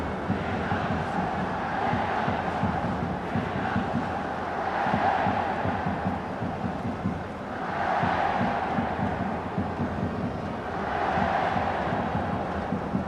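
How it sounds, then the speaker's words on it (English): A stadium crowd at a Real Madrid vs AC Milan football match during a penalty shootout keeps up a steady, distant roar that swells and dips in slow waves. "the crowd are enjoying the thrill of the penalty shootout"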